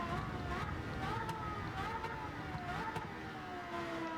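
A Porsche GT race car in Gran Turismo 7 roars around the Sardegna Road A circuit. The engine note climbs and drops through repeated revs and shifts, loud and continuous, with talk faintly underneath.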